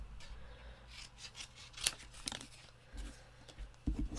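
Scissors snip through paper scraps being cut for handmade cards, a few quiet close crisp cuts with light rustling of paper between them.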